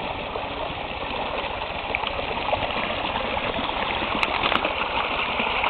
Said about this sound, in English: I love the sound of the running water.